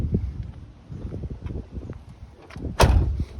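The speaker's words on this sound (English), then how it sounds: "Doors shut beautiful, as you can tell." Door of a 1985 Cadillac Eldorado closing, a single solid thump near the end after some shuffling and handling noise, recorded close up outdoors.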